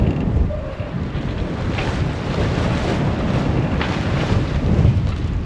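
A sailboat beats close-hauled at sea, and steady wind buffets the microphone over a constant wash of water and waves, loud and unbroken throughout.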